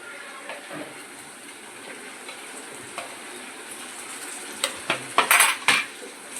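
Utensil clatters and scrapes against a pan as prawns are added and stirred into cooked masala, with a faint sizzle underneath; the knocks grow louder and more frequent near the end.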